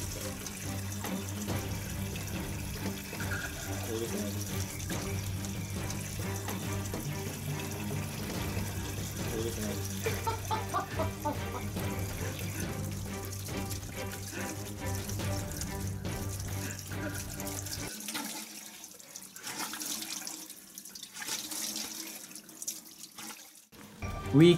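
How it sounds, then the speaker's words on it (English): Tap water runs steadily into a sink for hand washing, a continuous rushing stream that stops partway through and leaves a quieter room with faint clatter. "First, we wash our hands well."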